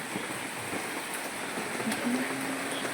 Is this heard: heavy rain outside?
yes